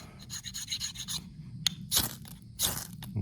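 Rough metal-on-metal scraping as chainsaw chain teeth rasp the coating off a ferro rod, a series of quick rhythmic strokes followed by two longer, louder drags, close and without speech.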